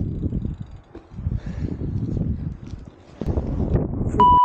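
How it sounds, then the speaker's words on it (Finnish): Steady strong wind buffets the microphone while cycling in Finland, a low, rumbling roar rising and falling in strength throughout. "Ja tuulee niin kovasti."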